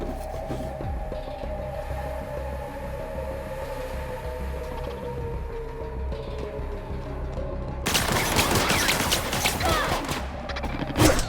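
Video game gunfire against robot enemies, a dense, loud crackling volley of rapid shots bursting in near the end after a stretch of quieter mechanical background rumble.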